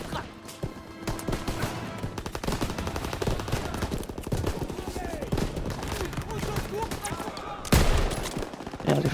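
Gunfire in the Call of Duty Liberation of Paris level aimed at a halftrack's turret, dense bursts of rapid automatic shots and explosive cracks with a heavy blast near the end, loud and close, with game voices in the mix.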